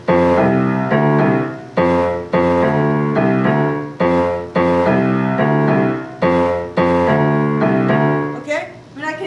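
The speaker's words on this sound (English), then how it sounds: "play it on the piano on some different notes" Piano plays a short repeated rhythmic figure on changing notes, with chords struck in a steady four-beat pattern, clear and close, alone without talk.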